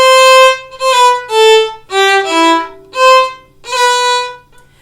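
A violin plays a slow melodic line across string changes without the bow stopping, the notes running together with scratchy transitions, several sustained tones heard close and alone with no voice.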